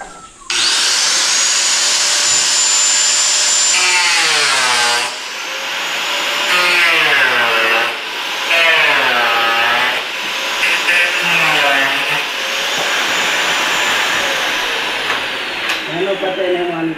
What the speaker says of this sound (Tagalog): Kailangan talaga ng blower para tuloy-tuloy ang hangin.